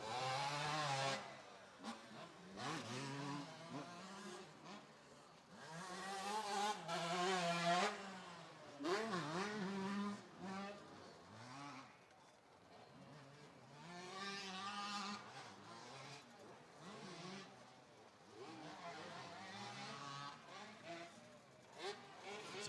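Two-stroke motocross bikes race the open class at a Winchester supercross, engines rising and falling in repeated revving waves. They sound fairly distant and quiet, with the crowd and track noise mixed in.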